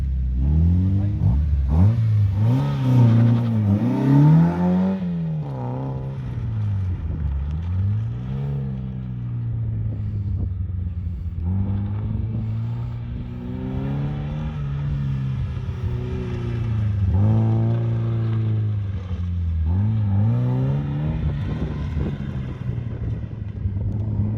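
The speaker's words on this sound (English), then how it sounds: "Here's Ian going out to show me how to do it in an MX5" A Mazda MX5 on a race track, its engine rising and falling through repeated revs and gear changes as it laps, with wind buffeting and a voice talking over much of it.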